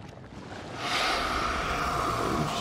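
Steady rushing water in House of Ashes swells after the first second into a broad, continuous wash that fills the rest of the clip.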